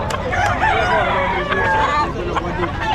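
Fighting roosters crow repeatedly, loud and close, with overlapping calls and some clucking over a busy, noisy background at a pet market.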